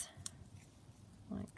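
Scissors cutting through a magazine page on a cluttered craft desk, giving a couple of soft, close snips that are very faint and quiet overall.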